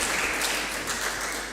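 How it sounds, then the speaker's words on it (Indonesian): A church youth celebration crowd claps for the band, with dense, steady applause that fills the whole brief moment at a fairly loud level. "Tepuk tangan dulu untuk pemain band kita hari ini."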